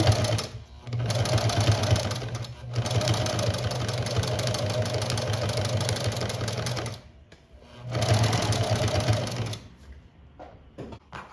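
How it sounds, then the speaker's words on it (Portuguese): Sewing machine stitching a small fabric reliquary, running in two long steady bursts with a brief pause between, then stopping into quiet handling sounds. "Agora viramos aqui, ó, e fazemos essa costurinha aqui."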